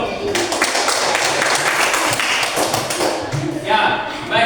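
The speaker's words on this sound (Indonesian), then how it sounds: "tepuk tangan untuk kita semua dulu" A school class gives a burst of loud, dense applause, many hands clapping together in a quick, uneven patter for a few seconds, with voices mixed in.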